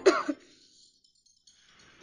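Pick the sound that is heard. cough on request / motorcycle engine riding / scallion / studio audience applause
cough on request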